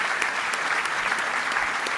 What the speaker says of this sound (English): I ask you to join me again in a round of applause for them for their terrific work.